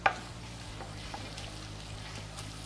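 Onion, garlic, leek and celery fry together in a pan for a chicken tortellini dish. A soft, steady sizzle runs throughout, with a small clink at the start. The sound is quiet and continuous, with no talk.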